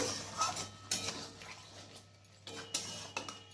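A utensil clinks and scrapes against a pan while yam curry with sugar is stirred, with a few sharp metallic taps spaced irregularly over a low, quiet kitchen background.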